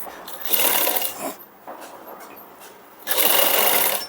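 A sewing machine stitches a princess-cut blouse in close, whirring runs: a burst of rapid stitching, a short pause with lighter running, then another strong burst.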